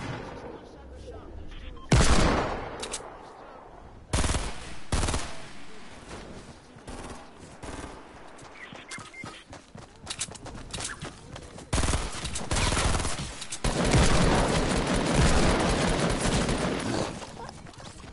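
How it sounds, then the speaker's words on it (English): Repeated loud hand cannon gunshot bursts from a video game, some rapid and layered, with voices talking between and over the shots. "I shot him with my hand cannon,"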